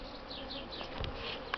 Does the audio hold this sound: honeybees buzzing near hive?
yes